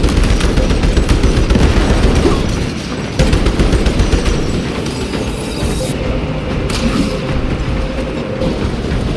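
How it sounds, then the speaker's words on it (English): Continuous loud battle din from the Space Marines 2 video game, dense gunfire and mechanical clatter with a brief dip around the three-second mark, a frag grenade blast buried in the steady barrage. "Deploying frag grenade."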